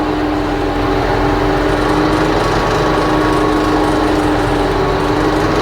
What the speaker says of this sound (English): Hear that rattle there? That's what's concerning us.